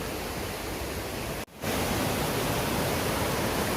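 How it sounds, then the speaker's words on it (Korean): A mountain valley waterfall roars in a dense, constant wash of noise near the camera, dropping out for a brief instant before returning louder, with no voices. "여기도 멋진 폭포가 있네요"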